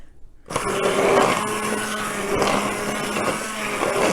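A kitchen blender whirs steadily while pureeing tomato soup until smooth, starting abruptly after a brief quiet moment and then running loud and even at close range with a constant motor hum.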